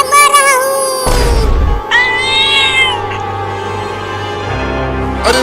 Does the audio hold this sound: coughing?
no